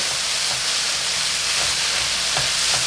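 Tuna sisig being stirred in a hot pan just after soy sauce goes in: a loud, constant sizzle and steamy hiss with faint scraping of the spatula now and then, no voices over it.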